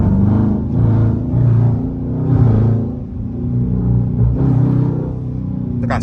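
A Dodge Charger or Challenger engine with a pedal commander installed runs close and loud, a steady low rumble that swells and dips in several short rev surges over six seconds.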